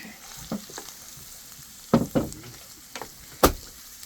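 Ground beef being mixed in a pan over a camp stove outdoors makes a soft continuous sizzle, broken by several sharp scraping and clanking stir strokes, two close together near the middle and another louder one later.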